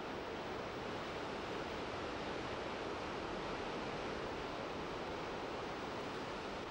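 Powerful rivers plunging over rock in spectacular waterfalls fill the air with a steady, loud, unbroken roar of rushing water, dense and constant throughout with no voices.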